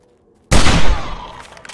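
A single sharp hunting rifle shot in the game 7 Days to Die cracks after a brief silence, loud and close, then rings out in a fading echo.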